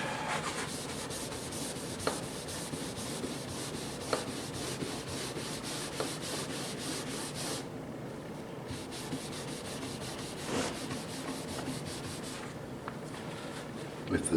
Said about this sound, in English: The more you rub, the shinier it will get.